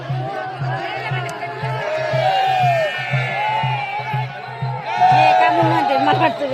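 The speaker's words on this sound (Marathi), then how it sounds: "खूप अशी गर्दी आहे" A large crowd fills a village fair with dense, continuous chatter and babble, a voice speaking nearby over the hubbub and a low rhythmic hum pulsing underneath.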